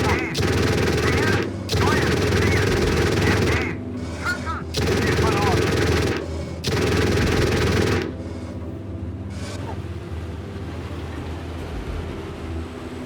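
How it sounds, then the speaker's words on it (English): A Marder 1 machine gun fires at infantry in the PC tank game Gunner HEAT. Four long, loud bursts of rapid automatic fire are separated by short gaps, followed by a quieter rumbling background. "Oh, that is infantry. Switching to HE. Alright, machine gun it."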